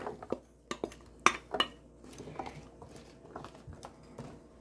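Garlic being mixed into a pan with roasting chicken and potatoes, heard as a scatter of close metallic clinks and scrapes of a utensil against cookware, a few sharp knocks standing out amid quieter shuffling.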